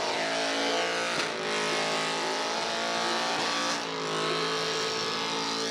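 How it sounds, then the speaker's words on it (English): A race car engine screams at high revs while drifting on the front stretch of South Boston Speedway, its pitch dipping and climbing twice as it is driven hard, loud and close. "Mr. Jonathan Nerrens absolutely burning it down on the front stretch for South Boston Speedway."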